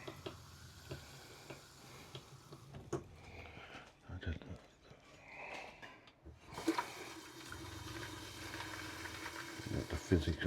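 Fizzy sanitizing solution running from an RV faucet, a steady hiss of water with ticking and clinking, interrupted briefly before a louder gush resumes, with people talking intermittently.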